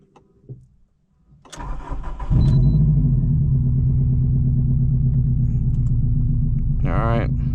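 A 2002 Subaru WRX wagon cranks briefly, catches and settles into a loud, deep, steady idle close by, after a few quiet clicks and rustles at the start.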